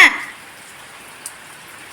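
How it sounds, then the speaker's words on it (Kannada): Rain falling at a dargah in a village, a soft, steady hiss of light rain that continues alone after a brief louder sound at the start. "ಇವತ್ತು ಮಳೆ ಬೇರೆ ಬಂದಿದೆ"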